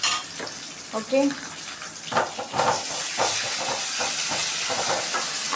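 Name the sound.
ginger garlic paste added to a pan, sizzling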